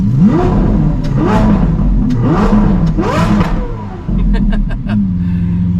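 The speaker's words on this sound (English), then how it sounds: "I had to get one last rev in." A Lamborghini engine revs hard several times in rising, roaring bursts, very close and loud, then settles into a throaty idle.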